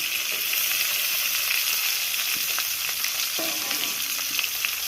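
Mixed vegetables frying in oil for a Bengali helencha greens dish, giving a steady, close, dense sizzle that runs unbroken through the whole stretch, with a few faint clinks and stirring scrapes scattered over it.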